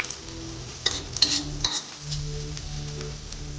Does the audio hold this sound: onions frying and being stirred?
yes